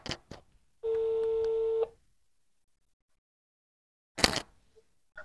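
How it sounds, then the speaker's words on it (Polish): A telephone line tone sounds for about a second, steady and loud, after a couple of short clicks, then silence and a brief rustle near the end. "Trzeba będzie zadzwonić."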